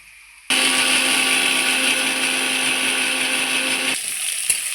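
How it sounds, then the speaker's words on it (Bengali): A kitchen blender grinds coriander, cumin and other spices into a paste: a loud, steady high-pitched motor whine that starts abruptly, holds for about three and a half seconds, then cuts off, leaving low background noise. "এগুলো সব আমি একবারে পেস্ট করে নেব এখন"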